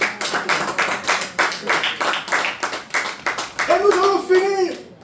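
A church congregation clapping in a quick, even rhythm, close and crisp, with a voice rising briefly near the end.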